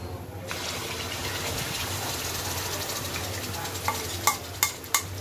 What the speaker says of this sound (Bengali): তেলের মধ্যে আগে রসুনটাকে দিয়ে একটু ভাজা ভাজা করে নিব রসুনটাকে